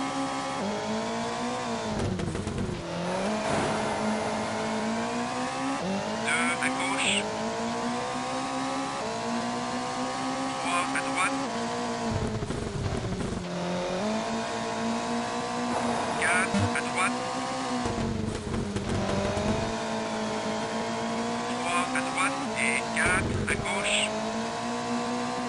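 Rally car engine droning steadily with rising and falling revs and gear changes in Colin McRae Rally on PC, on a Swedish stage at dusk, running loud and continuous throughout while someone talks over it.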